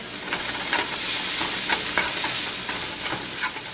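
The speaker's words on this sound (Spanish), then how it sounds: "Vamos a cocinar esto unos minutos. Queremos que esa cebolla se suavice." Onion softens in a frying pan alongside bacon drippings, a loud continuous close sizzle with occasional stirring clicks throughout, no talking.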